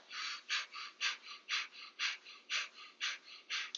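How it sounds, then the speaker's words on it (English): Breath of fire yoga breathing, rapid forceful panting in and out through the nose, about two even breaths per second in a steady close rhythm with no talk. "breath of fire, that panting in and out through the nose"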